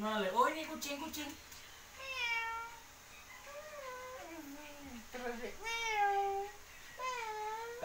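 A young child imitates a cat with several drawn-out, wavering meows, and an adult speaks briefly between them.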